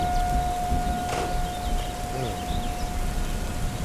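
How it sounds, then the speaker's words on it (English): A tornado siren wails as a steady tone during a rainstorm with thunder in Alma, Missouri, heard under the constant hiss of rain. "That's a tornado siren."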